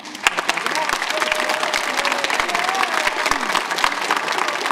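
Applause from a middle school concert audience for piano accompanists who played a new grand piano: a sustained wash of many hands clapping with some louder individual claps close by and faint voices murmuring beneath.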